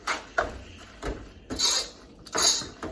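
A spoon stirring Kraft Dinner macaroni and cheese in a metal pot, a series of close scraping and clinking strokes against the pot in an uneven rhythm, with no voices.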